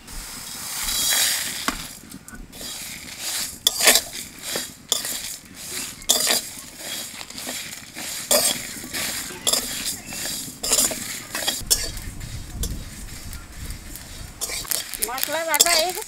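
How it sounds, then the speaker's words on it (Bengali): Spatula scrapes and clinks against a dry pan as fenugreek, fennel, cumin, coriander, mustard seeds and dried red chillies roast for a garlic pickle. The taps come in irregular, close bursts, with a voice faintly present at times. "প্রথমে শুকনো খোলায় কটা মশলা ভাজিয়ে নেব"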